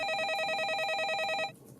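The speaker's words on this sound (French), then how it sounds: "Le téléphone sonne." A telephone rings with a steady, warbling electronic trill that repeats rapidly and clearly for over a second before cutting off, leaving faint room tone.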